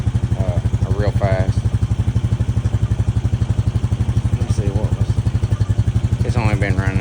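A 2025 Honda Rancher 420 ATV idles steadily after a cold start in 15–26°F weather on 0W-30 oil, a close, even putter with a brief voice over it.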